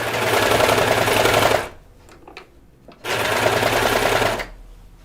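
A sewing machine stitches a cardigan neckband in two steady, loud bursts of rapid whirring, broken by a short pause with faint handling clicks between runs.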